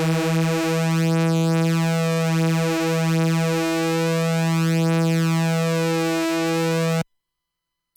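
Two oscillators of a Behringer K-2 synthesizer mixed together: a loud, steady buzzy tone with slow phasing and beating between the slightly detuned voices, held for about seven seconds before cutting off abruptly into silence.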